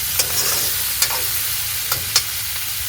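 Chopped tomatoes are added to onions sautéing in a pan, giving a loud, even sizzle with a few distinct scraping and stirring clicks, close by and with no voices.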